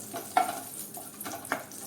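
Oil tempering with asafoetida stirred in a pan on low gas for a Gujarati chilli-tomato curry, a soft steady sizzle broken by a few louder scraping stirs, close and fairly quiet.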